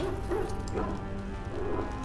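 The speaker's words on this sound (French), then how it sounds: "J'entends des chiens, c'est normal." Dogs bark and yip faintly in a Dragon Age video game scene, a few scattered distant barks over a steady low ambient bed, with no talk.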